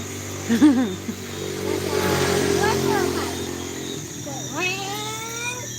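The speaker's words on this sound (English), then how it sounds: "You hear the bike?" A motorbike engine hums and revs as it passes on a street in Jamaica, rising and falling under nearby talking.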